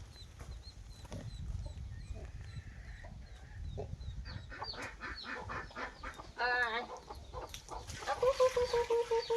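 Chickens cluck and chatter close by in a farmyard, with short repeated clucks building into a louder burst of squawking calls toward the end over a soft background rustle.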